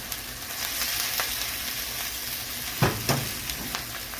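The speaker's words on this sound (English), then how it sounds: "Give them another stir." Potatoes crisping in a frying pan give off a steady, dense sizzle, close up, broken near the end by a few knocks and scrapes as a utensil stirs them.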